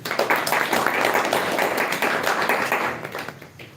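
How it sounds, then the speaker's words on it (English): An audience at a Quaid celebration event applauds the participants with dense, sustained clapping for about three seconds before it thins out and tapers off. "Please clap for everyone."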